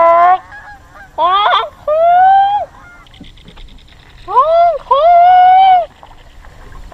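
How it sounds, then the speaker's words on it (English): Geese honk in loud, repeated bursts of several calls each near a fishing spot by the water, with quiet gaps between the groups. "There's some geese around here."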